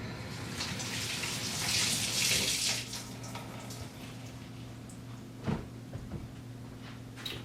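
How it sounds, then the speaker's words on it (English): Hands rinsed under a running kitchen tap while making bone broth vegetable soup, a loud steady rush of water for about three seconds that then eases into quieter splashing and a clunk near the end. "Now I'm just going to wash my hands really quick."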